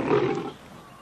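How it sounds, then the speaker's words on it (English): Asian lion giving a deep, tremendous roar, loud and close, swelling over the first half-second and then tailing off into a low rumble with no talk. "the lion has been known as the king of the jungle, and that isn't surprising when you hear their tremendous roar"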